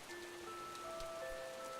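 Heavy rain falls steadily in the video game True Remembrance, a soft continuous hiss of rainfall with faint tonal music lines running underneath, evenly loud throughout.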